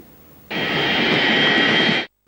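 A presidential airplane's engines roar as it arrives at Niamey, a loud sustained whine and rumble that starts abruptly, holds steady and then cuts off.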